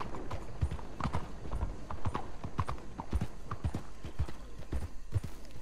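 Steady clip-clop of horse hooves in the video game Red Dead Redemption 2, riding through Saint Denis at night at a brisk trotting rhythm, close and continuous, with a faint voice now and then underneath.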